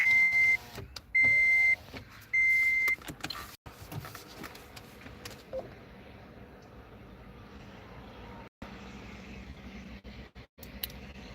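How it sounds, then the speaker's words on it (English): A car's power window motor whirring briefly near the start, with several short electronic tones, inside a quiet car cabin with faint background hum afterward. "I'm gonna put my window down here."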